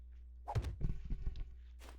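Heavy building block thunks down into place in 7 Days to Die as a vault hatch is set during a horde base build, a cluster of close, solid knocks and clunks over a steady low game hum.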